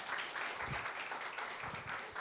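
Audience applause welcoming a pianist at a church gathering, a brief, even patter of many hands clapping at moderate distance, without voices.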